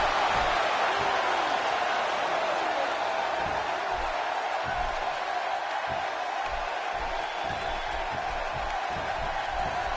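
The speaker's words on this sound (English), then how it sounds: "by the sound of this crowd, I think they're getting what they wanted" A large arena crowd in a wrestling video game cheers steadily, a dense continuous roar that fills the whole stretch with no pauses.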